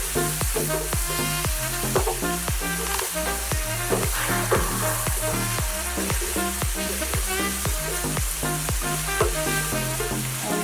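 Prawns frying with fish sauce and pepper in a pan for a sweet and sour dish, a loud continuous sizzle under rapid, rhythmic stirring clatter that runs throughout.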